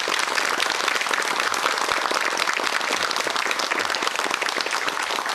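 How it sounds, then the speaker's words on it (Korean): A studio audience at a Korean television lecture program claps steadily to welcome a history professor, dense continuous applause filling the whole stretch without voices. "박수로 맞아주시기 바랍니다."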